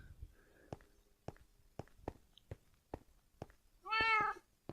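Single Minecraft cat meow near the end, clear and fairly loud, after a run of soft, evenly spaced footstep-like taps; no talking.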